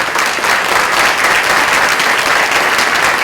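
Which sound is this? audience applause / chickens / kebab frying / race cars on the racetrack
audience applause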